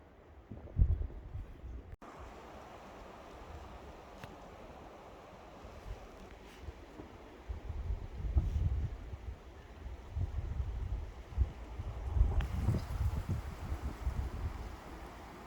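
Wind moves through pine tree crowns beside a frozen lake in Norway, a soft rushing whoosh that swells and fades in gusts, faint and distant at first, then louder gusts later, with no voices.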